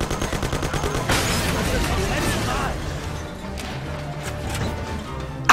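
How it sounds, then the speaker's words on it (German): Gunfire in the video game Mafia during a parking-garage shootout, with rapid bursts of shots and a crash early on, then scattered shots continuing under someone talking over the game. "Habe ich jetzt die ganze Zeit auf Pauly geknallt?"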